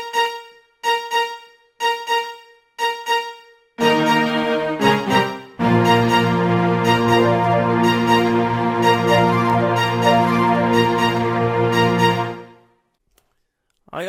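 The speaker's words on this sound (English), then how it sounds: "And what I'm able to do is play the string part and trigger the flutes at the same time." Keyboard string part played live with sampled flute phrases triggered over it: several short staccato chords first, then full sustained string swells with flute lines layered on top, loud and alone.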